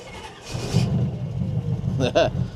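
An old truck engine fitted with a Sniper electronic fuel injection system catches and settles into a steady low rumble, with a brief higher rev near the end and a voice heard faintly over it.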